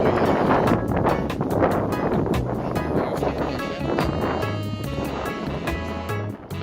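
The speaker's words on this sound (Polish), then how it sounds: "wiatr był tak silny, że zagłuszył naszą rozmowę" Strong wind pounds the microphone in heavy, rumbling gusts during a motorcycle rally in Andalusia, with faint voices buried beneath the buffeting.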